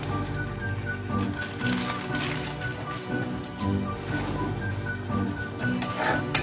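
Spices with Kashmiri chilli sizzle steadily in a pan for egg dopiaza, a continuous crackling hiss with soft bubbling under a faint low hum, no voices.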